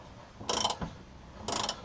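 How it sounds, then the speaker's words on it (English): A regular ratchet turns wheel nuts in two short bursts of quick clicking separated by a pause, faint and close, with no voices. "But I mean, it's just a regular ratchet."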